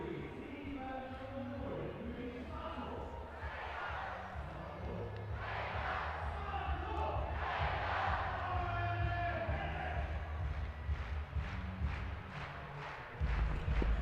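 A stadium crowd at a European CEFL American football game between Swarco Raiders Tirol and Wroclaw Panthers cheers and murmurs in the distance, a faint, steady swell with scattered louder shouts.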